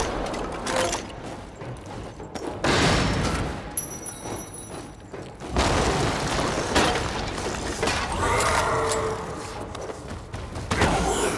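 Turrets fire in the Lara Croft and the Guardian of Light video game, with repeated bursts of gunfire, thuds and crashing impacts layered over continuous game audio, loud and fairly dense throughout.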